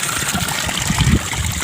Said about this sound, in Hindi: पानी आता है मस्त।